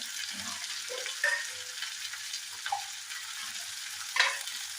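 Sliced onion and two green chillies frying in a pan, a soft steady hiss with a few scraping stirs and clinks, close and moderately quiet.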